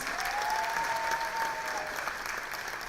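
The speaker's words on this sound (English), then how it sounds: "Let's give him one more huge round of applause." Audience applause at a community centre's annual day celebration, a steady, dense wash of clapping from a large crowd filling the whole moment without pause.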